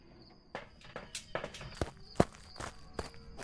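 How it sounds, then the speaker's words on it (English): Ghost footsteps in the horror game Phasmophobia thud across a floor in an uneven run of steps, some heavy and sharp, fairly close, with no speech. "just listen to its footsteps"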